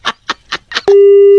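A telephone gives a busy tone after the call is hung up on a Hindi radio prank comedy segment: four quick, evenly spaced beeps, then a loud, steady continuous tone, heard alone and close.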